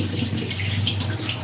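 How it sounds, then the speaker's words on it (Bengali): Tap water runs steadily while a fish bag is rinsed in a home kitchen, a continuous close splashing gush with no talk. "তার আগে এই যে মাছের ব্যাগটা ধুয়ে দিচ্ছি।"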